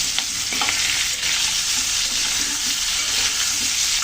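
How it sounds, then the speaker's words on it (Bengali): Pumpkin and potato curry with prawns stirred and fried in a pan, a loud continuous sizzle with soft scraping strokes of a spatula running throughout. "তরকারিতে ভালো করে ভেজে নিলাম চিংড়ি মাছের সাথে।"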